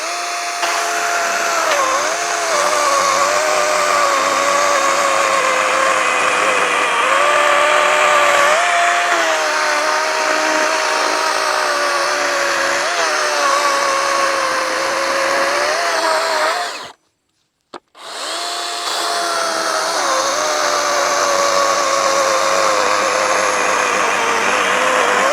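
A chainsaw, either a DeWalt 60V battery saw or a Stihl MS271 Farm Boss 50cc gas saw, cuts wood in a loud, sustained whine with slight pitch dips under load, cutting out briefly near the end before resuming.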